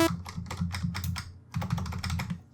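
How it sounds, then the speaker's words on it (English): Rapid keystrokes on a computer keyboard, typed in close, busy bursts with a brief pause midway through the run. "you start to jam a little bit on your typing keyboard"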